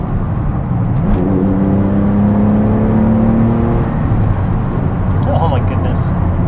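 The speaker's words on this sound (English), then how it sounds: "So if I drop a gear," A Porsche 996 engine revs up after a downshift, a rising whirring growl that climbs and holds for several seconds inside the cabin, with a person speaking over it.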